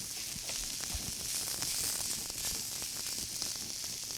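Garlic sizzling in a pan for a heart-healthy dish, a quiet, steady frying crackle with many small pops and spits close at hand and no talking over it.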